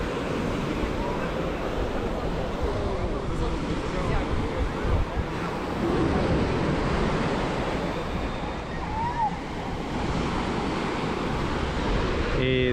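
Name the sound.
ocean waves breaking on the beach at Playa del Carmen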